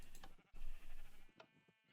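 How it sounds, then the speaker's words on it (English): A sheep bleats in the Minecraft video game, giving a couple of short, wavering cries heard alone at low volume. "I think I've actually got a sheep in a minecart"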